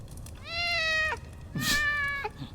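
A kitten in the Christmas Stories game gives two clear, drawn-out meows, each rising then falling, close and fairly loud with a short pause between them.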